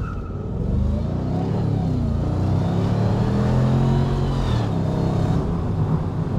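A Mercedes-McLaren SLR engine revving under heavy throttle, a continuous deep, rumbling roar that rises and holds steady, heard close from inside the car with no one speaking.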